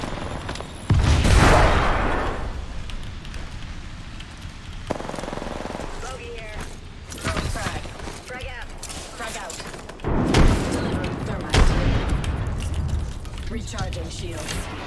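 Video game firefight with a grenade blast and rapid bursts of gunfire, loud thumps and mechanical clatter in sharp bursts, mixed with game voices and chirping effects.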